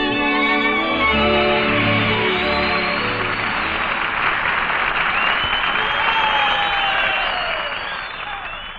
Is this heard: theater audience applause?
yes